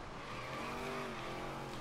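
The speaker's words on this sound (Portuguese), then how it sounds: "Vou dar um drift aqui agora, hein." A car drifting in Forza Horizon 3 on a Hot Wheels track: faint, steady engine whine with tire squeal sliding in pitch, continuous and without talk.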